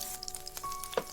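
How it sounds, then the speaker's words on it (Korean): Pancake batter hitting plenty of hot cooking oil in a pan, crackling in a bright continuous sizzle with a few sharper pops, close and alone. "식용유를 넉넉히 두르고 반죽을 넣고"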